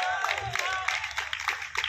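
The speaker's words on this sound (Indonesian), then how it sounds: "Tepuk tangan dulu untuk teman-teman semua." Audience at a national arts and culture council meeting in Jakarta, giving fairly close scattered claps beneath a voice that keeps talking.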